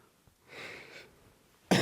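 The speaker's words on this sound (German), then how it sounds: "ich muss husten" A single short cough bursts out at the end after a quieter breathy throat sound, close and loud, with no talk.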